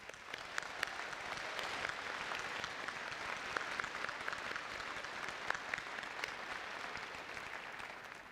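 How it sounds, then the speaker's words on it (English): Sustained applause from a large commencement audience honoring degree recipients, a dense even wash of clapping that holds steady throughout at a moderate distance, with no voices over it. "Let's give them another round of applause."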